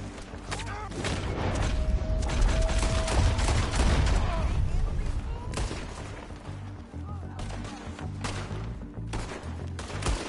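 A dense, continuous volley of gunshots and booms in a Red Dead Redemption 2 firefight, loud and chaotic, with voices talking intermittently beneath the shooting.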